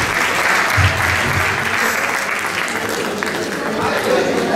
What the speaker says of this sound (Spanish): fuerte aplauso, señorita.